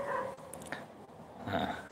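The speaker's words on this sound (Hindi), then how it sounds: "अब कोई कहेगा कि सर कुत्तों का आवाज आ रही है ना" Dogs whimper and growl low in the background, giving short, faint, muffled sounds against steady room noise.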